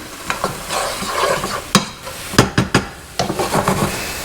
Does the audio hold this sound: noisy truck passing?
no